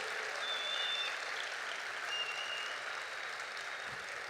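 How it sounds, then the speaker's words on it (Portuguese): Baptist church congregation in São Bernardo do Campo applauding together, a soft, steady and distant patter of many hands, unbroken from start to finish. "eu quero que você aplauda a vida do nosso irmão Anderson"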